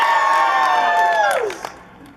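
A convention crowd at an anime event cheers loudly and steadily with whoops and shouts, the roar sustained before tapering off near the end.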